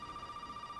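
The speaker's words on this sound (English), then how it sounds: "Don't start ringing the goddamn phone." Telephone ringing in the Resident Evil 7 video game, a faint steady electronic ring tone with a pulsing warble, heard alone.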